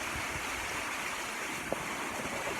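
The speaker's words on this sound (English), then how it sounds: "because it's so windy" Strong wind blows outdoors at a school trail, a steady broadband roar with gusty surges filling the whole clip, close and buffeting like wind on a microphone.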